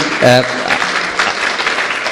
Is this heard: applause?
yes